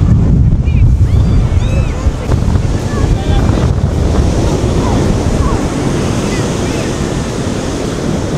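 Strong wind roars and buffets the microphone continuously, with waves surging underneath and a few faint voices.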